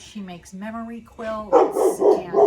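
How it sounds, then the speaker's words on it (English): A dog barks several times in quick succession indoors, the barks loud and close, breaking in over someone talking during a relaxed group conversation. "so sorry about the dog"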